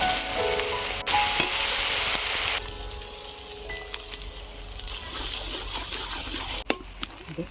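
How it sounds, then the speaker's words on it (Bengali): Ginger and garlic paste frying in a pan for a spicy fish curry, a loud steady sizzle that drops to a quieter crackle midway, with occasional stirring clicks and knocks. "আদা রসুন ভাজা ভাজা হয়ে এসছে"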